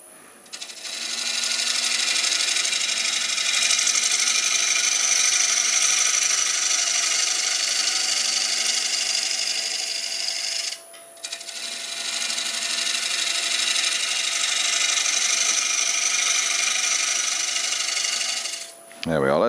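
A wood lathe takes light skim cuts on a traditional German ring turning. A steady, close rushing hiss of the tool on spinning wood runs in two long passes, broken by a brief pause, with no talk.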